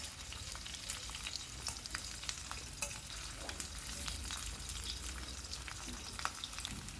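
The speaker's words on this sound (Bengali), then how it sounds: "তো সব আলুগুলোকে এইভাবে আমি একটু লাল লাল করে ভেজে নেব।" Potatoes fry in a pan for dum aloo, a steady, fairly quiet sizzle with scattered crackles and occasional stirring clicks, no voices.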